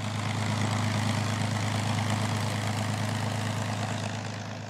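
A P-51 Mustang fighter plane's piston engine drones steadily and loudly with a low, even propeller hum, sustained without talk and easing off slightly at the end.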